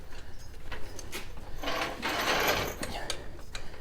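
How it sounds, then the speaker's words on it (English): A jack raising a truck, a Ford F150, worked slowly in a garage, giving a steady run of close mechanical ratcheting and clicking with a louder grinding stretch in the middle, no talking. "start jacking it real slow"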